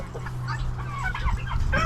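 A big Brahma rooster on a homestead clucks in a burst of close, throaty calls over a low background rumble.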